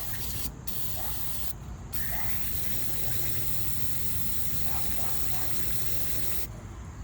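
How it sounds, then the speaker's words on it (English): Brake cleaner sprayed continuously onto a Harbor Freight jack during repair, a loud, close aerosol hiss with a few brief pauses and quiet background noises. "and brake cleaner. Just keep spraying that thing."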